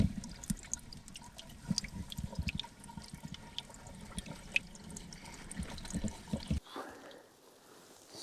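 Water trickles and drips inside an underground soil pipe, with faint irregular droplets and a low gurgling that stop abruptly, leaving near silence.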